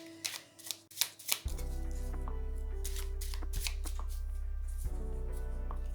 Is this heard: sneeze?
no